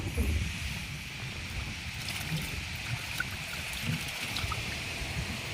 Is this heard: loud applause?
no